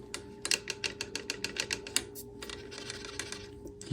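An internal cable rattles inside the frame of a Kent Trouvaille bicycle, a fast series of light, sharp ticking clicks in an irregular rhythm, close and fairly faint, with no voices.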